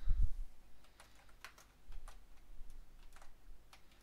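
Keys tapped on a computer keyboard at a terminal, in sparse, irregular clicks and short bursts, close and fairly quiet, after a brief low thump at the start, with no talking.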